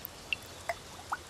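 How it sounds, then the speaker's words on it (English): Water dripping in three or four separate clear drops, each a bright plink at a slightly different pitch, spaced about a third of a second apart over near silence. "It's like the water's really dripping."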